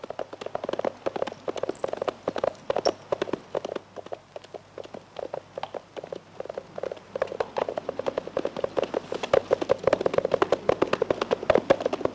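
Horses ride along, hooves clip-clopping in a steady, quickening patter over a low rumble, fairly close and growing busier toward the end, with no talking.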